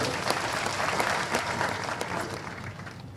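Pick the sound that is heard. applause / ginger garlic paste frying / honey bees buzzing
applause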